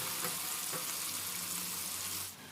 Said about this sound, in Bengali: পেঁয়াজটা হালকা ভেজে নিতে হবে বেশি ভাজার দরকার নেই হালকা ভেজে নিলেই হবে